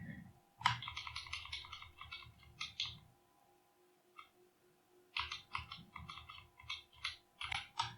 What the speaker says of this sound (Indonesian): Lalu kami lanjutkan dengan menekan tombol enter.